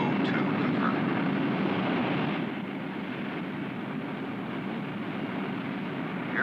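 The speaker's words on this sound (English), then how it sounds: "Roger, Air Force One, you are clear to take off" Air Force One jet on its takeoff roll, a broad steady roar of jet engines heard from a distance, easing slightly after a couple of seconds, with no speech.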